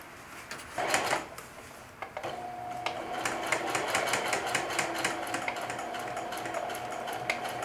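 A sewing machine stitching a seam with the presser foot down, starting with a short clunk then settling into a steady, fast rhythmic needle chatter over a faint motor whine, close and moderately quiet.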